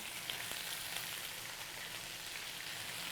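Spinach sizzling in extra virgin olive oil in a hot pan on medium-high heat, a steady faint crackling hiss running evenly throughout with no talking.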